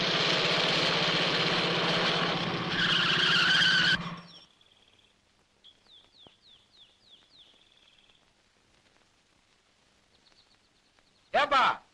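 A vehicle's engine rumbles loudly, then cuts off as it turns around in a comedy scene. Quiet follows, with faint high chirps, before a brief, sharp tire squeal at the very end.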